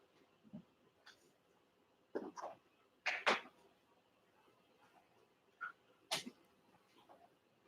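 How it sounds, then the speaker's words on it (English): A woman sneezing a few times, short sharp bursts spaced apart in a quiet room, fairly faint with some low background noise. "she sneezes when I start reading"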